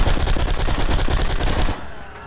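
Rapid automatic gunfire in the video game Blacksite, a loud burst of closely spaced shots in a steady rattling rhythm that cuts off abruptly, leaving faint background noise.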